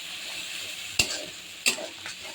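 A spoon stirs masala with chili powder and cumin powder in a hot pan, giving a soft continuous sizzle broken by two sharp scrapes against the pan, close and clear with no voices.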